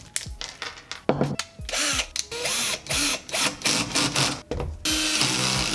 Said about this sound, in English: let me screw everything in